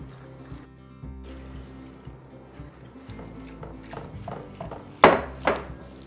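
Water splashes and trickles into a pot of collard greens, with clinks of metal and a couple of louder sloshing pours near the end, close up.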